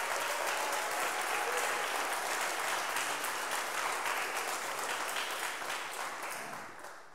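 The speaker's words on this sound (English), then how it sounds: "Let's have a big round of applause for Jim." A chapel congregation at a university weekly service applauds, a dense, steady wash of clapping that holds for several seconds before gradually tapering off at the end.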